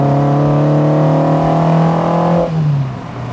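A Peugeot 205 G car engine while driving, a loud, steady mid-pitched drone that holds level for a couple of seconds and then drops in pitch as the revs fall.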